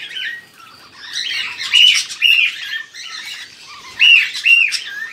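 Cockatiels in an aviary give repeated shrill squawks and chirps, several birds calling close by in overlapping bursts.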